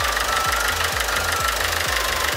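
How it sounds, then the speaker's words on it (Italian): Car engine idling after an EGR system cleaning, a steady, close mechanical drone with an even, regular knock repeating about twice per second, alone without speech. "Questo è il nostro motore dopo aver fatto l'intervento"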